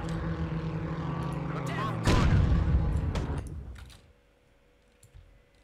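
Game gunfire and battle effects from the World War II strategy game Sudden Strike 3, with loud bursts of shots, engine or aircraft drone and explosions over the first four seconds, fading to quiet with a few faint clicks.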